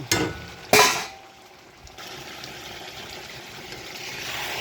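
Chicken legs stir-fried and simmered in curry gravy: two sharp clattering bursts, then a steady, moderate sizzle and bubble that continues on its own.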